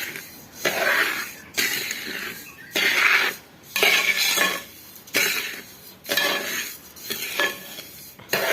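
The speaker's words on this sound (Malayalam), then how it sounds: "അപ്പോൾ ഒന്ന് ചൂടാറുന്നവരെ ഒന്ന് ഇളക്കി കൊടുക്കണം." Aval podi, a rice-flake powder, stirred in a hot pan with repeated rhythmic scraping strokes of a utensil against the metal, close and fairly loud, with brief pauses between strokes.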